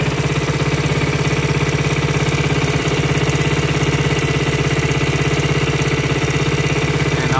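A Honda CT motorcycle engine fitted with an adjustable 6-volt CDI ignition runs steadily at idle, loud and close, with an even, rapid firing pulse and a mechanical vibration throughout, and no talking.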